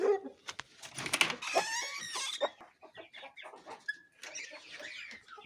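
Roosters kept in a yard cluck and crow close by, a busy run of squawks and calls with one drawn-out crow partway through, fairly loud and alone without talk.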